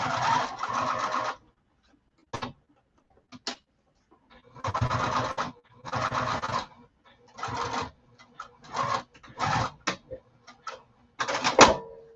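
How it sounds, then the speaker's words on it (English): A sewing machine stitches a garment lining in several bursts of rapid whirring, some long and some only brief taps, with silent pauses between, close and clear with no talk. "Okay, so we're just going to sew this back."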